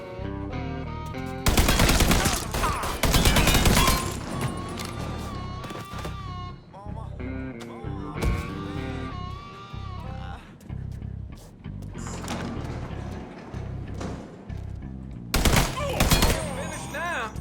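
Rapid bursts of automatic gunfire in the video game Mafia III, loud volleys in several clusters with shorter single shots between, mixed with game voices and background action noise.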